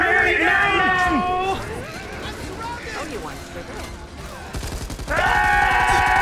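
Gunfire and explosion bursts from the co-op zombie shooter Back 4 Blood crackle under excited shouting, with a sustained rumbling blast near the end cut by a brief burst of rapid shots.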